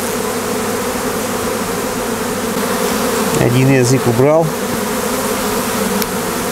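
Honey bees, some carrying pollen, hum in a close, steady drone around hive frames as a swarm is moved from a trap into a hive, with a brief louder buzz passing near mid-way and someone speaking briefly.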